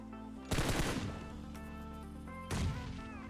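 Two loud, booming AWM sniper rifle shots in an online battle royale game, about two seconds apart, each followed by a ringing decay over a steady game soundscape.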